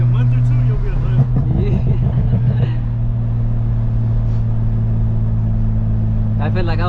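A tuned BMW M340i drives with a loud aftermarket exhaust, a steady low engine drone running throughout under excited conversation inside the car.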